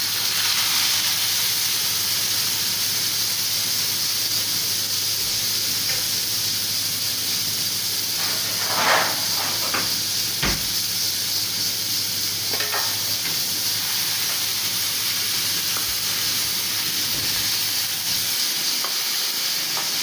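Ingredients for Kabuli pulao fry in hot oil with a continuous loud sizzle and hiss, with occasional scraping stirs, and no talking.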